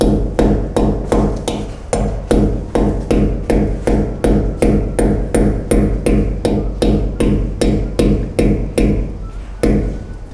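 A hammer drives nails into a very hard wall, with the nails bending. Steady, loud, evenly spaced strikes ring out about twice a second, over twenty in a row, with no pause.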